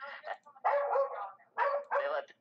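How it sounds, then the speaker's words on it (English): A dog barks outside in two close pairs of sharp, yappy barks separated by a short pause, moderately loud and heard from indoors with no talk over them. "There's a dog outside, and my dog thinks he's going to let him down."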